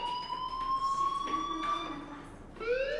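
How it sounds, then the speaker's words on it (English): An electronic fire alarm sounds in the Life Is Strange video game, a steady high tone that slowly rises in pitch, fades out and then starts again near the end, fairly faint and heard alone. "Hey, do you hear that fire alarm?"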